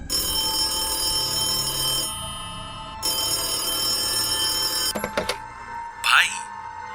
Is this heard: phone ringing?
yes